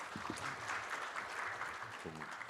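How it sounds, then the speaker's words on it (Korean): Audience applause at a finance forum, a steady wash of clapping heard at low level with brief speech fragments mixed in. "박수 한번 주십시오"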